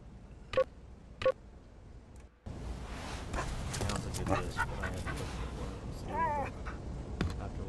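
Dog panting in the AR-K adventure game, with a couple of short sharp sounds first, then brief silence and a steady busy layer of game ambience and noise under which the canine breathing and whimpers carry.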